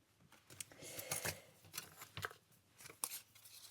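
Scissors snip a paper doodle down to size for a journal page: a handful of close, crisp cuts and rustles in quick irregular bursts, quiet overall.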